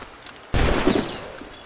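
A single cannon shot booms in the Assassin's Creed Rogue video game, a sudden loud close blast that rolls into a decaying rumble over about a second after a quiet lead-in.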